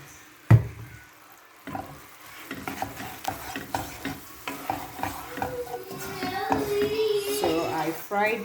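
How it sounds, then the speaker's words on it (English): Sausage and meatballs frying and being stirred in a pan, with a sharp clatter near the start, then steady sizzling and repeated scraping strokes, while a person talks over it. "fry this for like a minute"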